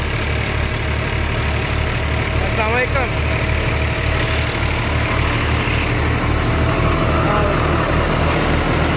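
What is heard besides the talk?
tractor engine idling with 480 thresher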